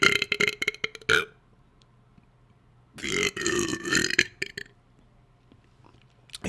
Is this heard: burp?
yes